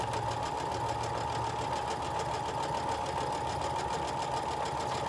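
A sewing machine stitching quilt pieces with a quarter-inch seam runs steadily and close, a fast, even mechanical whir and rattle that holds constant with no pauses.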